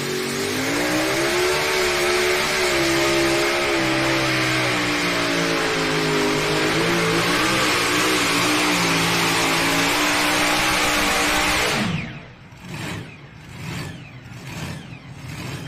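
A modified tractor engine roars at full power while pulling a sled at a tractor pull in Rock Valley, Iowa, loud and sustained for about twelve seconds, its pitch wavering, then dropping away into fainter, choppy engine noise.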